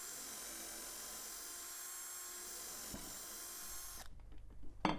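A power drill bores an angled pilot hole into a wooden beam, a continuous faint high whine running steadily, then cutting out as the bit stops with a few soft knocks and handling sounds.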